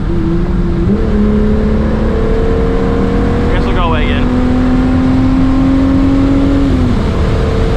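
From inside a moving MK3 Jetta, a car comes up fast from behind and passes, its engine and tire noise swelling and shifting over the steady loud road drone.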